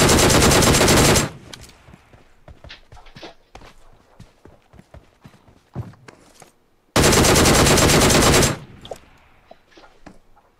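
Gunfire in the mobile battle royale game PUBG Mobile comes as two loud sustained automatic bursts, each about a second long, separated by quieter scattered shots, clicks and footsteps.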